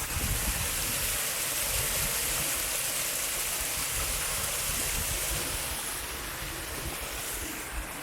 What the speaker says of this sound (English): Need a little waterfall there.